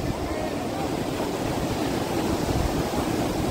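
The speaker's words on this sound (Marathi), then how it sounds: "हा जो शंभू आम्ही बनवलाय, आता इथून भरतीचं पाणी येत आहे, तर शंभूला आता टच करणार आहे" Waves wash up the beach at Ganpatipule in Ratnagiri on the Konkan coast as the high tide comes in. The roar is steady and close, with wind noise over the microphone.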